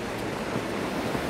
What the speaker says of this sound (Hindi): जैसे जैसे हम नदी के पास पहुँचते जा रहे हैं, पानी का शोर और तेजी से बढ़ता जा रहा है।